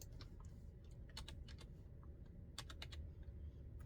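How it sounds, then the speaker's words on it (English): Quick, light keystrokes tap on a computer keyboard in short irregular bursts, close but quiet, with no voices. "I'm going to type synchronicity into a search."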